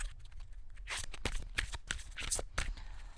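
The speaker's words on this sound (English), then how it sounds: "I love to shuffle these decks like this." Tarot cards riffle and slap together in quick bursts as a deck is shuffled up close, quiet and crisp, with brief pauses between riffles.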